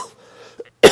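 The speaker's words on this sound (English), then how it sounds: "I have a little cough" A single short cough bursts out near the end after a quiet moment with faint murmuring, close and fairly loud.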